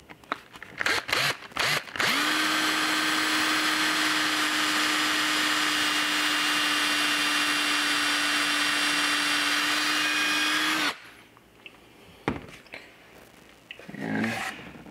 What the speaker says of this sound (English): And then you come with a drill.